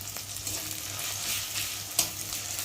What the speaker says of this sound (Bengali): তার জন্যে আমি রসুনটাকে ভালো করে ভেজে নিচ্ছি, সময় ধরে ভাজবো